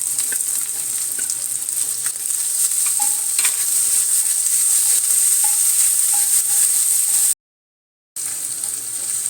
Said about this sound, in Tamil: கொஞ்சம் வெங்காயம் நல்லா வதங்கிடுச்சு